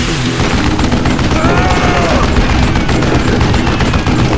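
Loud, dense video game gunfire rattles in rapid, continuous bursts with booms mixed in, close and busy throughout.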